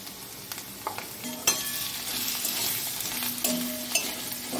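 Taro is sautéed with cumin, chili and coriander powders in a pan, a steady close sizzle under repeated scraping stirs and light clinks of a spatula on metal.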